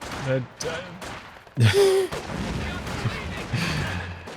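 Mortar fire in a Company of Heroes 2 multiplayer battle: a loud deep boom around the middle stands out against a steady wash of combat noise, with fainter thuds and bursts before and after, while a voice talks over it.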